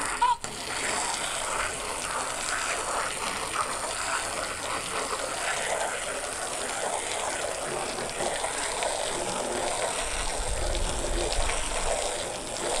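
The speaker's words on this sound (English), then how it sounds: "I'm gonna lay a fair bit of water to it." Water from a hose poured steadily over asphalt roof shingles while searching for a leak, a continuous close gushing and splashing that holds through, with a brief low thump near the end.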